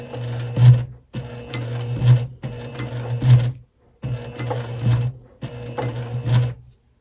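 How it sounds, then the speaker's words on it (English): A sewing machine stitches across strap webbing while a sling is sewn. The mechanical whirring runs in five roughly one-second bursts, each broken by a short pause for pivoting with the needle down, close up and without talk. "I pivot and then sew across the webbing."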